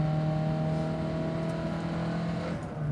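A Subaru Sambar kei van, a small rear-engined Japanese van, drones at steady high revs while driving, a sustained engine hum with a clear whine that holds level before easing off at the end.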